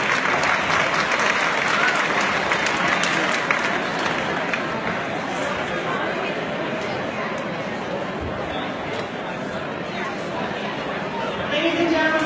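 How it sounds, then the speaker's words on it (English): Sustained applause from a dinner ceremony audience at an air show reception, steady dense clapping mixed with crowd chatter, lasting throughout and swelling slightly at the end. "let's give them a great big round of applause"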